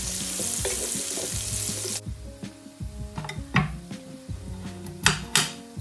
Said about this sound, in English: gonna fry this for about 5-10 minutes for the golden brown and have a nice color to them